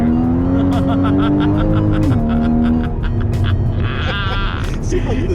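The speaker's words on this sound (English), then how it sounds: "Some downshifting and second gear." A 2015 Porsche Cayman GTS engine holds a loud, steady note, then drops in pitch as it downshifts into second gear. Rougher engine and tire noise follow, all close and prominent.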